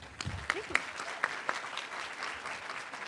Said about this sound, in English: Another round of applause for Donna.